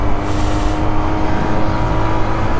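Volkswagen Fox car passes very close while cutting off a motorcycle in a traffic corridor, a loud, sustained engine roar right up close with no pause.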